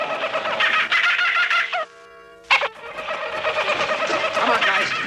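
A griffle bird calling on a 1960s naval comedy soundtrack, loud gobbling and squawking bursts that break off briefly for a tonal note, then resume in a raucous, fowl-like chatter.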